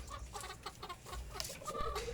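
Several chickens clucking and murmuring nearby, short soft calls overlapping in an irregular rhythm.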